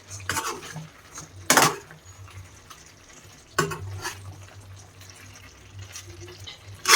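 Metal utensils clatter and scrape against a pan of chicken curry in a few loud bursts, with softer stirring and faint kitchen noise between them.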